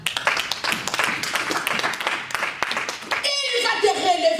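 Congregation at a French-language church service applauding and cheering, a dense crackle of many hands clapping with voices mixed in, then a brief dip before the clapping continues alongside a louder voice.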